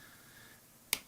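A wooden piece of a 3D mechanical hand puzzle pops out of its sheet with one sharp, close crack near the end, after near silence.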